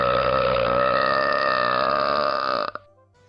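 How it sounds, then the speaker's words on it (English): A long, loud human belch, a single sustained burp of nearly three seconds that ends abruptly, with no talking over it. "Excuse me for belching. I couldn't hold it in."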